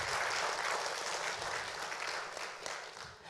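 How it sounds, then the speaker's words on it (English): Audience in a room at a Vanuatu community fellowship gathering applauding a speaker, with dense, steady clapping from a crowd that slowly tapers off toward the end. "give him one big full round of applause"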